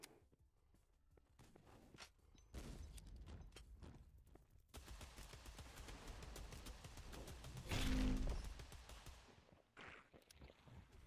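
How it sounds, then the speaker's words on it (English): Gunfire from a free-to-play first-person shooter made by students, rapid bursts of distant-sounding shots and scuffling footsteps, fairly quiet overall with a louder blast near the end. "Shoot these dudes from a distance."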